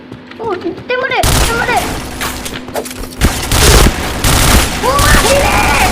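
Rapid bursts of gunfire from the shooter game Point Blank crackle in dense, overlapping volleys over a sustained firefight, with a character voice and short chirping effects at the start and occasional game cues layered in.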